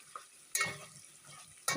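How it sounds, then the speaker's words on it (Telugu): Prawns fry in oil in a pan, with a soft background sizzle broken by two brief bursts of louder crackling or stirring, close and fairly quiet overall. "రొయ్యలు వేగిపోయినాయి ఫ్రెండ్స్ ఆయిల్లో"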